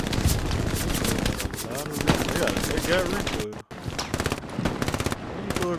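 Rapid automatic gunfire from a player's gun in the WWII shooter Hell Let Loose, sustained bursts with a brief gap, heard under talking players.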